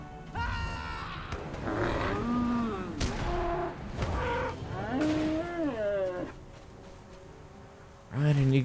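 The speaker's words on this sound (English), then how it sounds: "Let me go kill a few more cows if I can" Cows lowing in the fantasy online game LOTRO, several drawn-out moos rising and falling amid sharp combat impacts, with a louder moo near the end.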